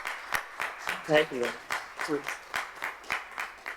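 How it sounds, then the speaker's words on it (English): Scattered audience clapping in a hall at a youth leadership forum in Santander, Spain, with regular sharp claps running throughout and a voice briefly speaking over them. "I think we deserve a clap for that."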